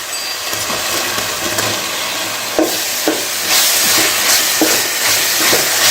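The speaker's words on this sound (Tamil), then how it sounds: "இப்போ நம்ம வெட்டி வச்சுருக்கிற இந்த தக்காளியை சேர்த்துக்கலாம்." Chopped tomatoes go into a pan of frying ginger-garlic paste for biryani, giving a steady loud sizzle and hiss with a few soft stirring clacks, the sizzle swelling brighter partway through.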